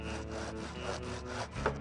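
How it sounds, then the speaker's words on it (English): Steady back-and-forth sawing through wood comes from the Thimbleweed Park video game, about seven strokes in an even rhythm, close and moderately loud with no voices. "It sounds like she's sawing."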